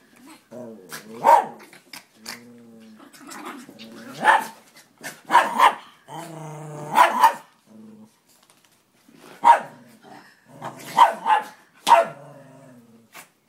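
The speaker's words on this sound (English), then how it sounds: "I wanted to catch the noises that Shadow makes on video" A dog barks, yips and growls in bursts while playing with a small chihuahua-type dog, close and loud with short pauses between outbursts.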